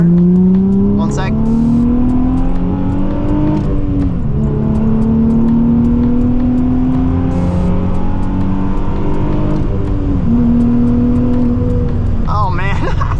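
Nissan 350Z accelerating hard on the road, engine pitch sweeping upward through several gear changes, loud and steady from inside the car.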